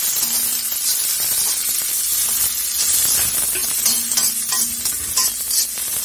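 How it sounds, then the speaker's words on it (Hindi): Capsicum and cabbage fry in an iron kadai with a steady, close, loud sizzle, broken by scraping stirs throughout. "मैं यहाँ पर डाल दूंगी शिमला मिर्च और पत्ता गोभी, इनको हम हल्का हल्का सा फ्राई कर लेंगे"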